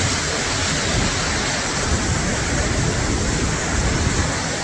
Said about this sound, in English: That's some powerful waterfall behind me.